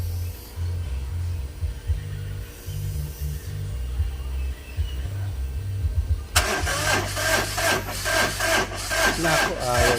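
Suzuki Super Carry engine, hot and hard to start, cranking with an idling hum, then a loud, rapid, rhythmic churning of the starter that keeps turning over without catching, close by.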